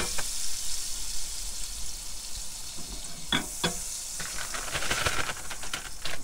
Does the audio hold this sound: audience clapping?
no